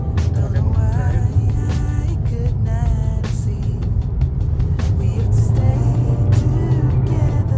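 Inside a 2022 Honda HR-V e:CVT driving in D mode, a loud, steady low road and drivetrain rumble fills the cabin continuously, with faint higher tones and occasional light knocks.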